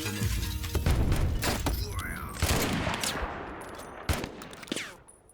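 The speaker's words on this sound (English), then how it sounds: "Let me lay down some cover fire." Video game gunfire as cover fire in a war campaign: rapid bursts of shots and sharp impacts, loud and close, with a voice talking over parts of the volley.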